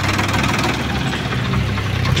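Sonalika 745 tractor diesel engine idling close by, a steady low rumbling throb with a faint knock running through the whole stretch, loud and alone without any talk.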